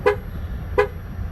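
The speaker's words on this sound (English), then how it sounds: "Now the car will beep." Two short, bright horn chirps from a Chevrolet Impala, about 0.7 seconds apart, confirming a tire pressure sensor has been programmed; close and clear over a low background hum.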